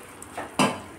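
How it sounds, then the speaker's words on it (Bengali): A little water goes into a pan of ghugni cooking with peas, giving a brief soft splash and then a louder sizzling rush that fades over about half a second, with no talking. "সামান্য আমি জল দেব।"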